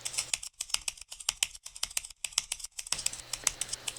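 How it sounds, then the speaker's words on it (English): Rapid, crisp clicking of computer keys rattles away in a quick typing rhythm. It sounds close and steady, with no voices. "I ended up using me typing on the keyboard as the hi-hat sound for the drums"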